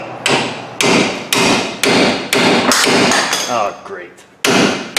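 A hammer strikes hard on a ball joint stud under a Ford F-250, about seven sharp metallic ringing blows at an uneven pace, close and loud, with a brief spoken remark between hits.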